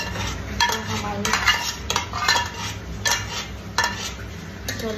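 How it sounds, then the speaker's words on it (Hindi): Amaranth (chaulai) being stirred into hot sugar syrup for laddoos, giving a steady scraping, clinking stir against the pot with bursts of faint sizzle every second or so, close up and with no talk. "अब हम इस चौलाई को इस चाशनी को मिक्स कर लेंगे इस तरीके से।"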